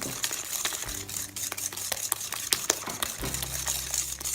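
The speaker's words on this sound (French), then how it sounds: "on va fouetter jusqu'à ce que le mélange blanchisse" Sugar and eggs whisked by hand for a lemon tart until pale, a brisk irregular clicking and scraping of the whisk against the bowl, close and fairly quiet, with a faint low hum underneath.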